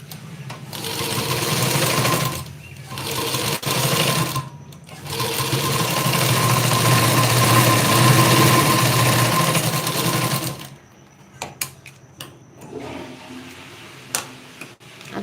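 Sewing machine stitching a blouse in a tailoring class, running in long steady bursts with short pauses between them, then stopping for scattered clicks and handling noises near the end.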